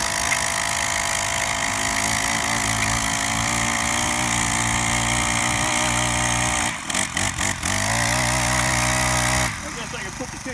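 A Mantis 4-cycle tiller engine runs at a steady, loud mechanical drone while tilling hard, undisturbed ground, with brief stuttering dips in the note partway through and a voice talking over it.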